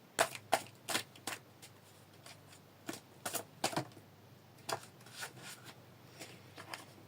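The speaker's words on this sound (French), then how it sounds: "je vais aller chercher une carte dans un oracle" Cards shuffle and slide as one is drawn from an oracle deck, a close series of quick riffling snaps and soft rubs in uneven bursts over a quiet room, with no talking.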